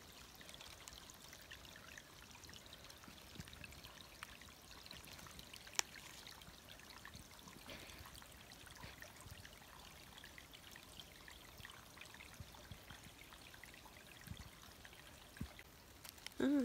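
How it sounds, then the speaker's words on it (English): A small waterfall in autumn woods flows with a steady, soft trickling and pouring of water, continuous and fairly faint throughout, with no voices. "now up at the very top of the waterfall-y thingy."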